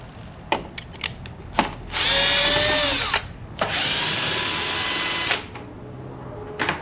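A power drill removes bolts on a Can-Am Spyder F3 rear shock: two sustained whirring runs of about one and two seconds, close and loud, between scattered metallic clicks and taps.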